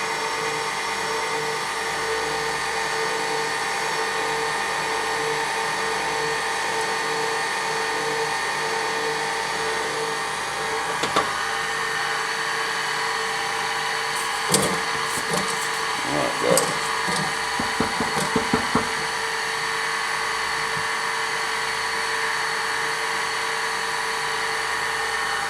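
An electric hand mixer beats banana bread batter in a bowl, a steady motor whine running throughout with brief clattering scrapes partway through as the beaters knock against the bowl.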